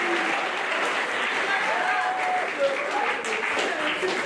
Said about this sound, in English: So nice round of applause for them.